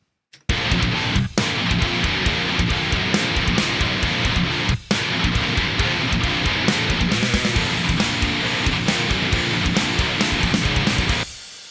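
Panned, EQ'd electric guitar tracks play in a mix, loud and dense from start to finish. Two brief dropouts break the sound before it stops abruptly near the end. No voices are heard.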